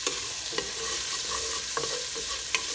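Fresh turmeric and spices frying with aubergine and potato in a pan, a steady sizzle broken by several sharp scraping stirs of a utensil.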